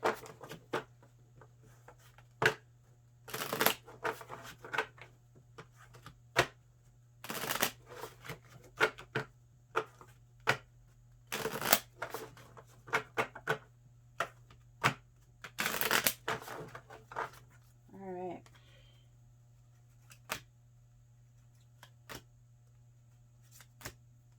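Tarot cards are riffle-shuffled in several quick bursts separated by pauses, with scattered soft taps and clicks between them over a faint steady hum.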